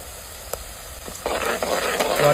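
Garlic, green chili, ginger and masala paste sautéing, a quiet hiss with faint stirring scrapes that swells into a louder, steady sizzle toward the end.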